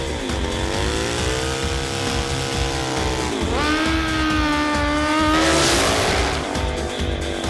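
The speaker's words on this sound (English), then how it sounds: "This is a gas-powered Pro Stock drag motorcycle." A gas-powered Pro Stock drag racing motorcycle, 2680 cc, revs repeatedly during a warm-up, pitch rising and falling through throttle blips, loud and close with a rough idle underneath.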